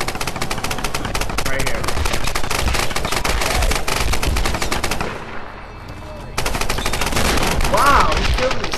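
Shotgun gunfire in a Tomb Raider multiplayer free-for-all match: dense, loud, rapid volleys of shots with a brief lull partway through, then more firing. A voice briefly speaks among the shots.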